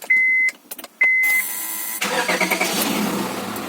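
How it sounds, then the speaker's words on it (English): Two chiming beeps, then a car engine cranks and catches, settling into a steady running rumble close by; a car under restoration, running without its serpentine belt, the battery light staying on. "So I'm in the car right now, about to start it up after all that work."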